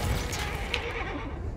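A horse neighs and dies in Battlefield 1, its whinny lost in a dense wash of loud battlefield noise and rumble throughout.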